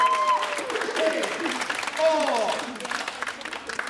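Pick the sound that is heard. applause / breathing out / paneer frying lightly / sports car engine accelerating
applause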